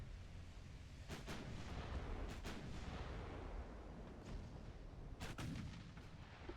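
Heavy 9-inch naval guns fire in the game Ultimate Admiral Dreadnoughts, several booming shots in irregular bursts over a dense, continuous rumble of battle noise.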